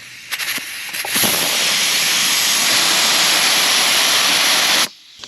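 Air blasting out of a tire valve stem with the core unscrewed by a valve tool: a loud, steady rushing hiss that builds quickly, holds strongly, then cuts off abruptly near the end.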